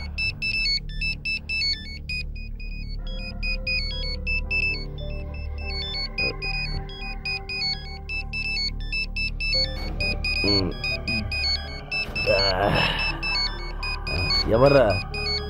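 A mobile phone rings with a repeating electronic melody, clear at first, then partly buried under engine noise and indistinct voices.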